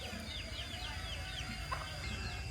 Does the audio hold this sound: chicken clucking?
yes